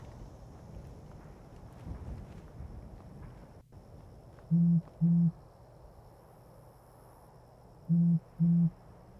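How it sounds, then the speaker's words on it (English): A mobile phone vibrates with two pairs of short, low buzzes, the pairs a few seconds apart, over a quiet ambient wind hum with no talking. "My phone buzzing again."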